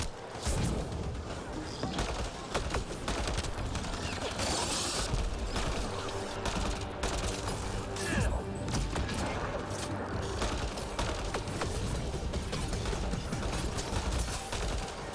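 Gunfire crackles through a firefight in Mass Effect Andromeda. Scattered shots and bursts are mixed with mechanical clanks and impacts, steady and busy throughout.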